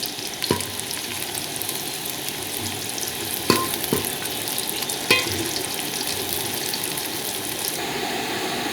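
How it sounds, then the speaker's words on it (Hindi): Onions frying in ghee in a cooking pot for a chicken macaroni dish, giving a steady broadband sizzle with a few sharp stirring clatters and scrapes breaking through near and fairly loud. "इसमें हम घी डालेंगे। अब हम इसमें प्याज डालेंगे।"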